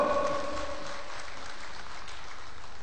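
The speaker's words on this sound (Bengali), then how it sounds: "আপনাদের জন্য একটা বড় বড় হাততালি হোক।" Brief burst of audience applause at a company success ceremony, a steady dense patter of clapping that stays fairly faint and even for a few seconds.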